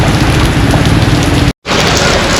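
Heavy rain pours steadily and loudly during a flood in Bakoteh, The Gambia, a dense close hiss that drops out for a split second before resuming.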